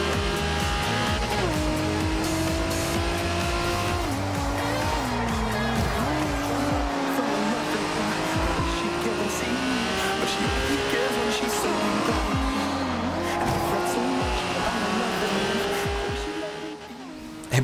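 Nissan Skyline in the video game Forza Horizon 2, heard from the in-car camera: a loud, steady engine drone rising and falling through revs and gear shifts for the whole stretch, with faint tyre noise.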